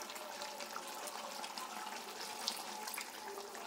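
A small amount of water is poured from a spoon into browning chicken pieces cooking for Chicken Maharani, a soft steady trickle and splash throughout with no talking.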